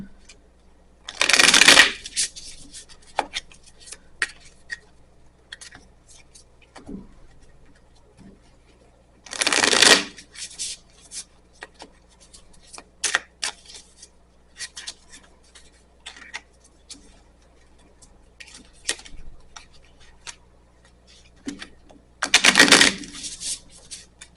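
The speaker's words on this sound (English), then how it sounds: "we'll draw some tarot cards first, and then we'll find out a little bit more with the oracle cards" Tarot cards are shuffled in three short, crisp riffling bursts spaced several seconds apart, each a quick flurry of slapping card edges, with quiet handling sounds and soft taps in the gaps.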